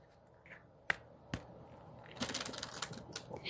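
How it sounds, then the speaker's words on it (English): A deck of playing cards being shuffled, with a couple of sharp snaps early on followed by a dense, flurrying riffle of card noise building toward the end, close and fairly quiet. "Okay, let's shuffle."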